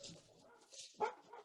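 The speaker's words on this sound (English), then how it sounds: "And dogs, apparently." A dog's short bark, faint and somewhat distant, heard amid soft background sound with a brief whine-like tone just before it.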